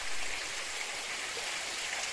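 A steady, broad rush of falling water fills the air, constant and unbroken, from Sunnapugadda Waterfall near Seethampeta, Araku, heard from a short distance.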